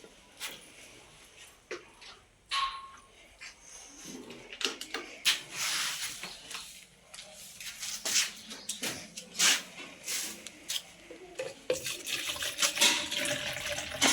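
Water splashes and gushes intermittently from a tap, hissing and spattering in uneven bursts at close range.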